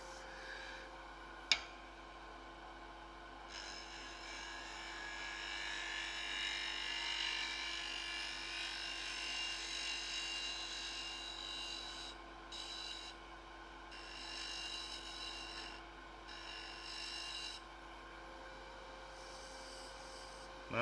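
A wood lathe tool shear-cuts an end grain wood box, a sustained hissing scrape over the steady hum of the spinning lathe, with brief gaps where the tool lifts away and one sharp tap.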